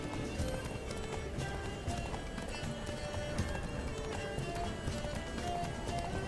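Roach the horse gallops in The Witcher 3, a steady dense run of hoofbeats close and continuous, with a faint murmur of voice underneath.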